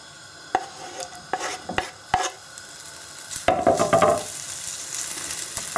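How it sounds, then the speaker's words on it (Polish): Bacon stirred in a pan with a little oil, giving a soft steady sizzle broken by sharp scraping clicks of a utensil against the pan, close up and without talk. "Na patelnię wlewamy dosłownie odrobinkę oleju, bo będziemy podsmażać boczek"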